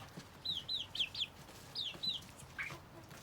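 Small hens, Pavlovsky and Ispar breeds, give a series of high, quick clucks and chirps in short groups, near but soft, over a quiet background with no talk.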